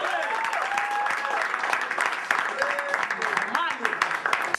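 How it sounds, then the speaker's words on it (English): A studio audience at a televised talent show applauds steadily as a vocalist is welcomed, the clapping sustained throughout with a voice and a few whistles or tonal sounds riding over it. "So give him a round of applause, a very long one."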